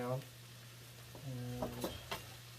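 Onions with salt and a pinch of baking soda sautéing in a pan, a soft, steady sizzle with a few stirring scrapes; a voice hums briefly over it.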